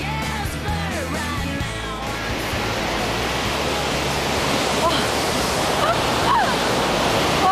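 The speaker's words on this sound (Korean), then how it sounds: "걸어갈수록 쏟아지는 폭포 소리에 귀가 청량해집니다" Roaring waterfall in Norway, a constant broad rush of falling water, with faint voices and birdlike calls briefly audible at the start.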